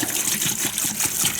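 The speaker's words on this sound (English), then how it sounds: "we're going to pour that right on the tools." Distilled vinegar pours steadily onto rusty tools, a continuous close splashing and trickling of liquid over the short moment.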